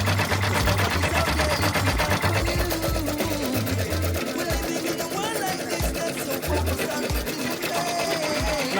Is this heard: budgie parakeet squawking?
no